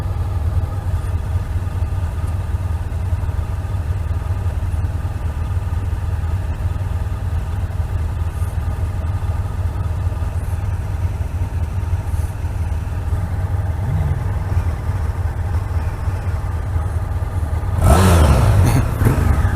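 A Honda CB500X parallel-twin motorcycle engine, 2017 model, runs in a steady mid-pitched drone throughout, with a louder burst near the end as it revs, no talk.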